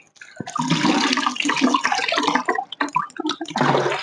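Softened water from a salt-free water softener splashes steadily from a tap as hands are rinsed at a sink, a close, continuous rush that briefly breaks up midway before resuming strongly.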